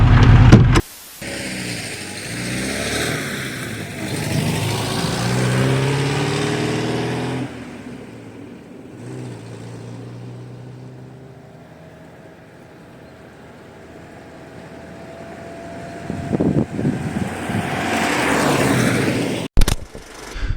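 A 1980 IZh Kombi is driven, its engine running loudly at first, easing to a lower hum in the middle, then rising again, with a few sharp knocks and clatters near the end.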